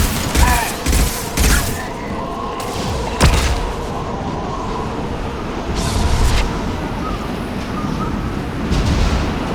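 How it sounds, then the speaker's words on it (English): Flashbang grenades going off in the Mass Effect 2 video game, a run of sharp bangs and thuds in quick succession, loud and close, over busy combat noise with a few scattered later blasts. "Watch out, flashbangs!"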